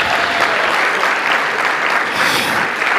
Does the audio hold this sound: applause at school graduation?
yes